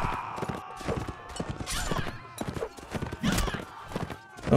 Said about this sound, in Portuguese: Alguém pegou o cavalo ali em cima, hein?